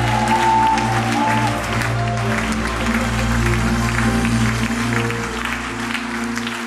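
A church congregation applauds steadily, a continuous wash of clapping over sustained low musical tones, with some faint voices mixed in.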